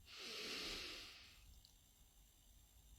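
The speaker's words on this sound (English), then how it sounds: "just breathing in through your nose" A person draws one slow, soft breath in through the nose, a close, airy hiss lasting about a second before fading into quiet room tone.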